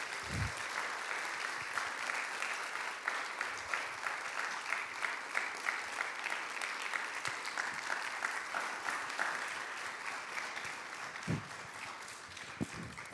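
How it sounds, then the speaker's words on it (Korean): Steady applause from a live audience at a university talk event in Korea as guests come on stage, a continuous close crowd clapping that fades slightly toward the end. "나오실 때 큰 박수 부탁드리겠습니다"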